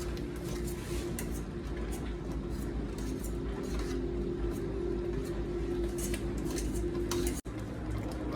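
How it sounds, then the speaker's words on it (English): Apricots being mashed in a pot for apricot lavender jam on a double batch, a steady soft squishing and clinking of utensil against the pot, close and continuous with a brief pause near the end. "Let's do a little more mashing"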